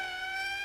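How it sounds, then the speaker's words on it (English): An approaching morgue wagon's siren gives a sustained, steady wail in an old black-and-white film, sounding loud and clear in a short burst with no speech. "That's the 5th siren in the last hour"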